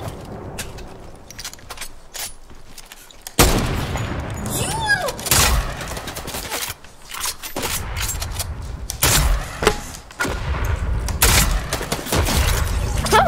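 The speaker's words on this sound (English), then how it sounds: "The power of proximity grenade launchers." Explosive bursts from a proximity grenade launcher in a video game, several loud booms and crackling blasts scattered through a busy mix of game sound effects, with faint talk underneath.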